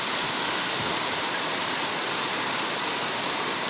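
Fine hail falls during a hailstorm in Saudi Arabia, making a dense, steady hiss with no pauses or separate impacts.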